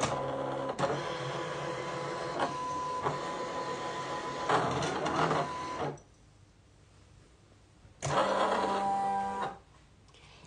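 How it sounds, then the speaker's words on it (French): A Silhouette Portrait cutting machine works through a cut, its motor whirring and buzzing in steady stop-start runs with brief quiet pauses between passes, close and fairly quiet. "ma petite portrait a terminé sa découpe"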